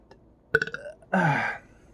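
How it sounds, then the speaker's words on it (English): A man gives a short stuttering belch followed by a longer, louder drawn-out burp, both close and alone against near silence. "I feel like I got a burp coming out already before I even start."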